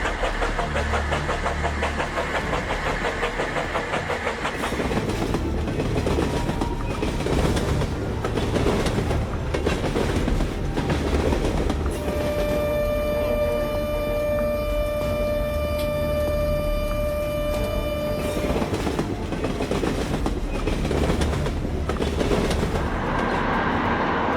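A train runs on the rails in a long, loud continuous rumble with clickety-clack rhythm from the wheels, and a sustained high tonal squeal or horn-like ring joining partway through before fading back into the roar.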